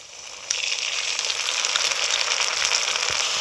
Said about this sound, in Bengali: এবার আমি সর্ষে কাজু বাদাম মৌরি বাটাটা দিয়ে দেবো,